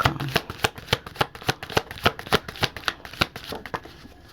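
Tarot cards being shuffled in a quick, uneven run of crisp riffling flicks and taps, close and fairly quiet, with no talking.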